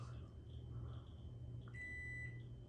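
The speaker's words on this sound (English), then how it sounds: "that beep is coming from the kitchen, and it is not the microwave." A faint electronic beep from a kitchen appliance other than the microwave sounds from a distance in a Homewood Suites hotel room in Baton Rouge, over a low steady hum, brief and thin against the background.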